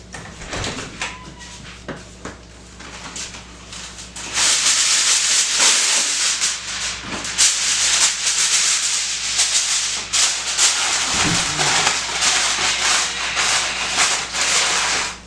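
Sheet of aluminum foil crinkling and rustling as it is pressed over a dish of yams (sweet potatoes) before baking, a loud, steady papery crackle close to the microphone for most of the stretch.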